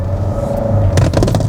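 An MG GT car in sport mode accelerates with a steady low engine rumble, building to a rougher, louder push near the end.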